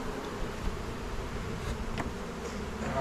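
Honeybees swarming around a garden beehive on a sunny Alaska summer day, a continuous close buzzing with individual bees droning past the microphone, and no talking.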